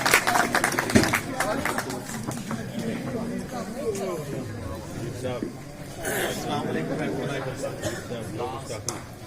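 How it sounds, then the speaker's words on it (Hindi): Applause from the audience at an All India Mushaira in Yawal welcomes the poet Naushad Biyawali. The clapping is dense and steady, thickest at the start, and crowd murmur and voices run through it. "जोरदार तालियों में इस्तकबाल करें आपके हुजूर मोहतरम नौशाद ब्यावली।"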